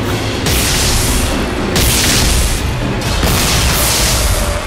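Shotgun blasts in the video game Dead Space 3, three loud booming shots spaced about a second and a half apart, each decaying into a dense rumbling tail, with no voices.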